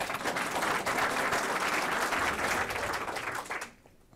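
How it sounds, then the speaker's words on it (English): A large audience applauds in a dense, steady roar of clapping that holds for several seconds before fading quickly away. "I was interrupted by applause for at least 15 seconds."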